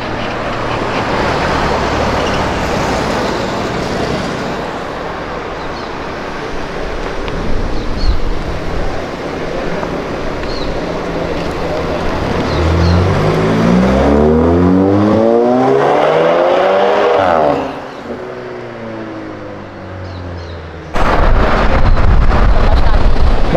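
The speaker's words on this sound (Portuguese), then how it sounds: "Vai, busão, passa logo." A bus passes close by on a road, its engine and tire noise swelling in a rising and falling sweep, heard from inside a moving car amid wind and road rumble while people talk.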